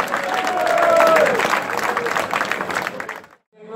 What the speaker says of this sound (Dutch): Applaus gaat natuurlijk ook klinken voor deze top 3.